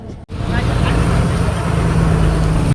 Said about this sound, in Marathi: खतरनाक ट्रॅफिक आहे गाईज.